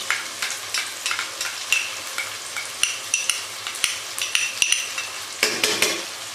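A spoon stirs green chili and ginger garlic paste into tomatoes in a frying pan, with a soft sizzle and a series of light, irregular scrapes and metallic clinks against the pan, close and quiet.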